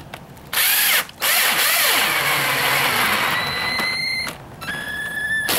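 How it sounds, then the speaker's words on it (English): A power drill bores a 1/8-inch hole while building a solar oven frame, whirring at high speed, briefly stopping, then spinning up again with a rising whine toward the end; loud and close, no voices. "You want to drive your 1/8-inch drill hole in there."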